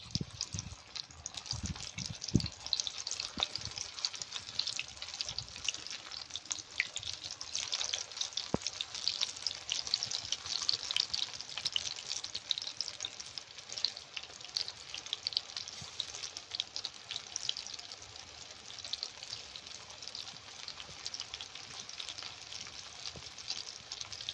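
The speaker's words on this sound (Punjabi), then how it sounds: "ਸਰੋਂ ਦੇ ਤੇਲ 'ਚ ਕਟਾਂਗੇ ਪਕੌੜੇ" Aloo palak pakoras in gram flour batter fry in hot mustard oil with a faint, steady sizzle and crackle throughout. A few soft knocks come at the start.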